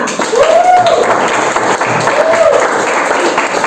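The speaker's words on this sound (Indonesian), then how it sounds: "mari tepuk tangan untuk kita semua" A classroom of students applauds together, loud and close, with the clapping holding steady for several seconds and a voice or two rising briefly above it.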